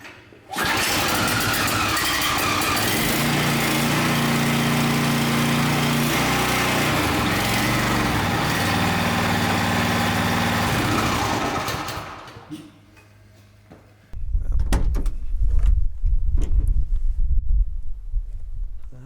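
The small petrol engine of a Stihl RB800 pressure washer roars loudly and steadily for about twelve seconds, then cuts off. A low rumbling thump follows after a brief quiet gap.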